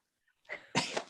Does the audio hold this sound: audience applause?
no